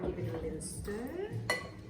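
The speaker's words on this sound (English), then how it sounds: "Give it a little stir." A spoon stirs a pot of mixture with walnuts just added, giving scraping, soft clinks and knocks against the pot in a close, irregular rhythm.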